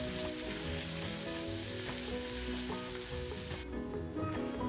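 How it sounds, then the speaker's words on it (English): Roughly chopped garlic and onion sautéing in a kadai give off a loud, continuous sizzle and crackle, heard close up with no talking, and the hiss eases slightly near the end. "Into the kadai, I'll add roughly chopped garlic and onion and saute until onion becomes"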